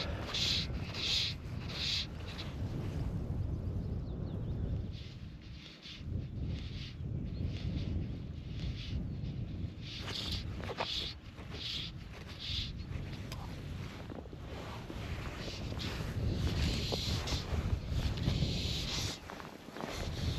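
Wind blowing across a small loch in the Galloway Hills while fly fishing, a constant rough roar buffeting close to the microphone for the whole stretch, with faint scattered knocks and rustles beneath it.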